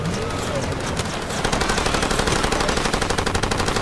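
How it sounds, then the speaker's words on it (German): Enemy automatic gunfire in the video game Far Cry 2 rattles loudly in a dense, sustained stream of rapid shots that intensifies partway through and carries on steadily to the end. "von da hinten, da schießen sie auch schon wieder"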